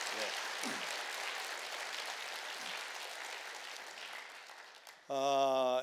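Warm applause from a church congregation at a Sunday worship service, thanking the choir: a steady wash of many hands clapping in a large room that gradually thins, then cuts to a loud sung or spoken voice at the end.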